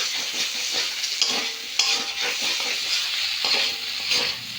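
Ground spices such as cumin and coriander powder sizzle and fry in a pan while a spoon stirs them repeatedly, a steady close hiss broken by scraping strokes, during preparation of a pabda fish curry with potato and tomato.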